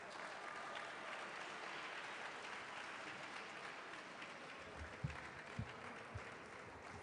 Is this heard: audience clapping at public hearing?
yes